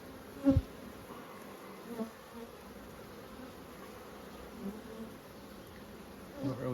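Honeybees buzz at a low, steady level during a hive inspection, with a few brief louder bumps and knocks near the start and end.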